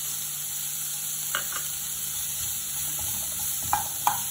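Boiled chickpeas with coriander leaves being stirred into a masala frying in a pan give a steady close sizzle, with a few soft scrapes and clinks of the spoon against the pan.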